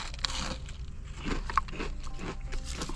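Bites and chewing on a McDonald's hash brown, a series of close, crisp crunches at a steady chewing rhythm, with some faint background noise and no talking.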